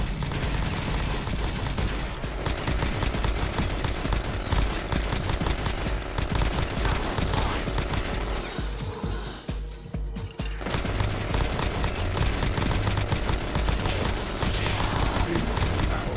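Continuous rapid gunfire from an overpowered infinite-ammo gun in Black Ops Zombies, loud and relentless with a brief dip near the middle before the shooting resumes.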